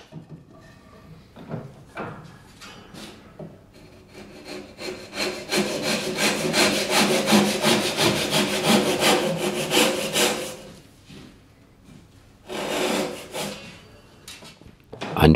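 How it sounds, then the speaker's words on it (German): A Japanese ryoba saw rips lengthwise along the grain of a wooden workpiece in a slightly angled cut, sounding as a steady run of rasping back-and-forth strokes that build to a dense stretch before pausing and resuming briefly. "Der erste Schnitt ist ein leicht schräger Längsschnitt."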